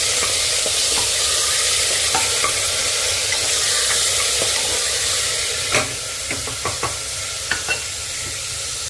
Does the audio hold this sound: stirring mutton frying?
yes